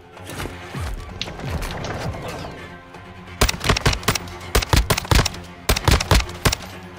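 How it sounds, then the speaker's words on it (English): Gunfire in the video game Call of Duty DMZ: a quiet stretch gives way to loud, close bursts of rapid automatic shots in several clustered volleys with short pauses between them. "I'm getting shot at."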